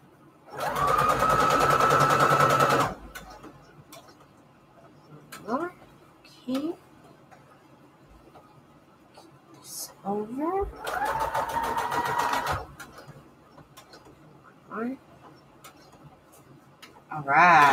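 A sewing machine stitches fabric onto index cards in two loud, steady bursts, with quieter gaps between them where someone talks and small clicks and ticks are heard.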